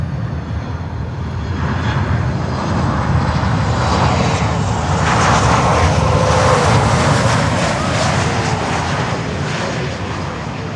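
Atlas cargo jet landing on runway 9 at Miami airport, a loud, steady roar of jet engines filling the whole stretch, swelling toward the middle as the aircraft passes close, with a faint voice in the background.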